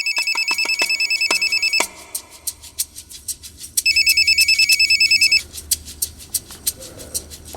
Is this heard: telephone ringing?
yes